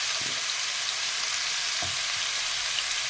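Potatoes frying in a pan, a steady bright sizzle throughout with a few soft stirring knocks, close and continuous with no talk.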